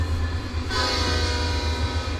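An intermodal freight train rolls past in Run8 Train Simulator V3, a steady low rumble of cars with a brighter rail hiss swelling partway through, loud and continuous with no talk.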